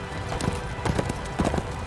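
Horse hooves clip-clopping in the video game Darksiders II, a steady run of hoof strikes with a faint whinny, all over a constant background game ambience.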